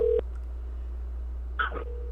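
Brief telephone tones from a phone line on a live call-in stream: a short steady tone at the start, then a louder warbling burst followed by a held tone, all faint over a constant low hum.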